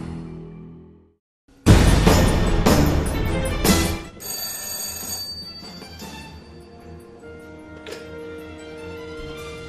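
A telephone rings loudly and close in a Ternopil gas utility advert, beginning after a short quiet lead-in with a bright electronic ring, then fading into a sustained tonal tail.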